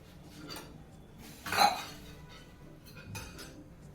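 A metal lid clinks down onto a pan of onions cooking on the stove, one brief clear clatter amid quiet kitchen background.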